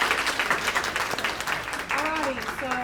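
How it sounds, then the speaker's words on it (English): Applause for a guest artist at a beauty school lash-extension session, a steady dense patter of clapping from a small audience, with voices and a whoop or cheer rising over it near the end. "y'all could just give a little clap in for Miss Kayla."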